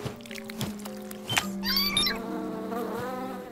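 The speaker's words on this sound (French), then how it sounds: "c'est en battant des ailes qu'on obtient un miel plus épais" Animated bees buzz with beating wings in a short cartoon scene, bright whirring tones rising over a few musical notes and effects, fairly quiet and close.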